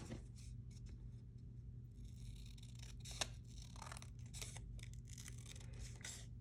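Scissors snip through a recycled book page in a series of quick, close, crisp cuts and paper rustles, with one sharper snip partway through and no talk.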